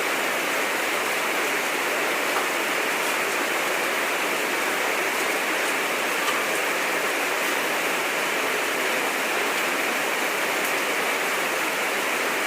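Steady, heavy rainfall roars continuously with a dense hiss, loud and close, no voices or pauses throughout.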